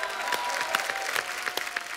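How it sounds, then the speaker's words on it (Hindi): A studio audience at a TV comedy show applauds steadily, dense clapping at a consistent level throughout, with no voices standing out. "जोरदार तालियां नेहा के लिए"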